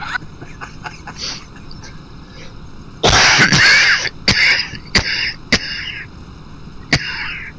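One loud, harsh cough bursts out near the microphone, with a few short sharp throat-clearing sounds after it over faint background noise.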